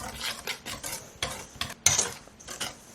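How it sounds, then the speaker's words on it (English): A whisk stirring sugar into a stiff banana bread batter in a bowl, rhythmic scraping strokes repeating about every quarter second, close, with a sharper clink against the bowl midway. "And we're just going to go ahead and whisk this in."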